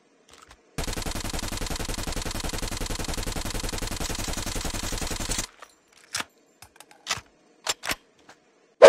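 Automatic fire from a suppressed Krig 6 rifle with the Black Iron skin in Call of Duty Mobile comes as one tight, rapid burst of about five seconds, then several scattered short clicks and shots.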